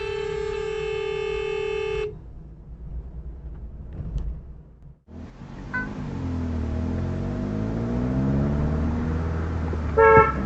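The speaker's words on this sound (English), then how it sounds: "I guess honk is a new break?" A car horn honks in a long sustained blast, then short toots come later over road and engine noise inside a moving car, picked up by a dashcam.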